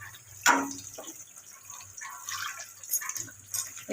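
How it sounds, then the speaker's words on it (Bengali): Hot water poured into a pan while cooking a fish-head curry with onion and ginger paste: a faint splash, then soft trickling and dripping at low volume. "একটু জল দিয়ে রাখলাম, গরম জল, করে দিচ্ছি।"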